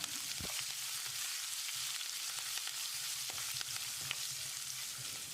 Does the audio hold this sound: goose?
no